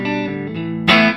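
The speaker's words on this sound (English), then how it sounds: "Here's the neck pickup." A short phrase of electric guitar on the neck pickup played directly into an amp with no pedals or reverb, a sustained chord with a sharp strum at the end, close and clear.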